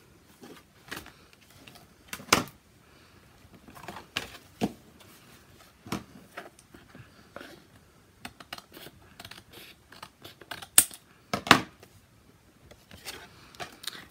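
Craft dividers are trimmed by cutting off their tabs, producing scattered, crisp snips and clicks at an irregular pace, fairly quiet and close, with soft handling noise between cuts.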